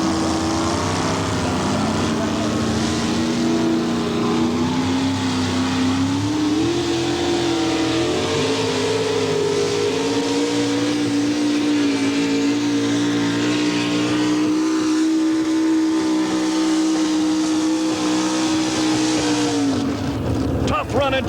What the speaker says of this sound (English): Running truck right there for the Holman Brothers foreplay out of Wauseon, Ohio.